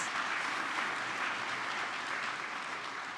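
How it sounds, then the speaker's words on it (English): Steady, even applause from an audience at the Smithsonian Folklife Festival welcome ceremony, a soft, distant wash of many hands clapping continuously without a break. "And you can clap there for our incredible partners."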